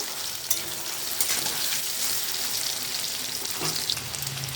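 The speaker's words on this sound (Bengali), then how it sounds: "পনিরটা ভাজা হচ্ছে, একটু হলুদ দিয়েছি যাতে কড়াইতে না লাগে।" Paneer sizzles as it fries in a wok with a little turmeric, a close, steady crackle and hiss lasting throughout with faint stirring clatter.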